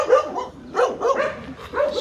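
Several dogs bark and yip close by in quick, overlapping bursts, with a whimpering edge between the louder barks.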